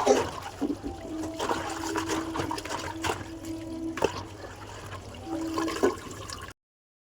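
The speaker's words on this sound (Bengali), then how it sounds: "এখন আমি বাইরের কলে বসেই সব শাকগুলোকে ধুয়ে নিচ্ছি" Water from an outdoor tap runs at a low pressure over leafy greens as they are washed, a faint trickle and splash broken by occasional clatters.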